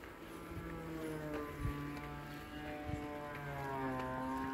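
A boat engine and a water pump drone steadily and fairly faintly out in open rice fields, a hum with layered tones and no talking.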